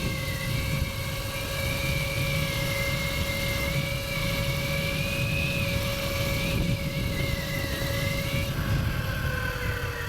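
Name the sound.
Surron Ultra Bee electric dirt bike at top speed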